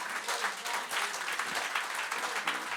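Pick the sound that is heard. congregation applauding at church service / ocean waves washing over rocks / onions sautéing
congregation applauding at church service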